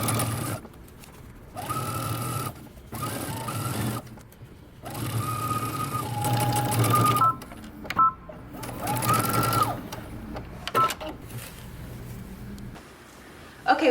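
A sewing machine runs in several bursts, stitching around the waistband of a pair of jeans with back stitches at the start and end, a close whirring drone separated by short pauses.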